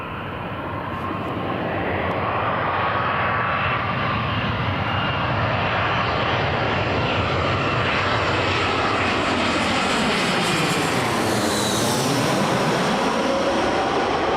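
A Eurowings airliner landing at Newcastle International Airport roars continuously and loudly, a broad jet rumble whose pitch sweeps down and back up as it passes close by, with no voices over it.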